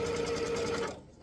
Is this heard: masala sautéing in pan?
no